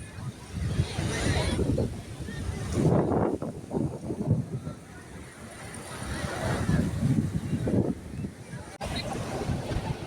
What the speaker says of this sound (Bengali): ঢেউয়ের আওয়াজগুলো অস্থির, বাতাসের হাওয়া।